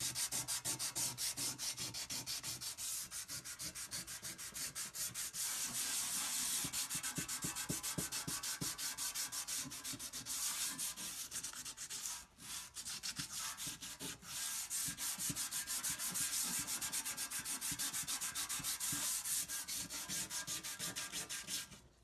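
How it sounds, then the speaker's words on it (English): Steady back-and-forth scrubbing of 220-grit sandpaper on a metal transmission pan, taking off rust spots, fast and continuous for the whole stretch with one brief pause, close up and no talking. "take some 220 and just do a quick sand, taking off any kind of rust spots"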